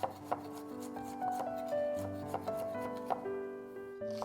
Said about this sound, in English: Chop 3 sticks of green onions.